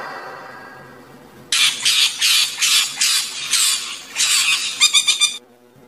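A parrot squawks loudly and close by in a rapid series of about ten harsh, rasping calls, ending with quicker clipped squawks, with no other sounds.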